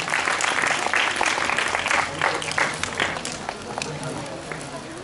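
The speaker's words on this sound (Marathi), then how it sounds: "एकदा या बालकलावंतासाठी जोरदार टाळ्या होऊन द्या" Audience at a bhajan competition claps for child bhajan performers, a dense crackle of many hands that is loud at first and tapers off gradually over five seconds.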